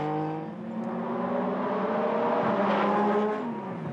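A Porsche 911 GT3 RSR race car's flat-six engine pulls hard and loud, its tone climbing steadily through the gears with a brief dip as it shifts, constant and close with no voices.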